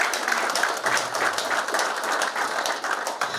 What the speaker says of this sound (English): can you give a round of applause to Majestic Choral?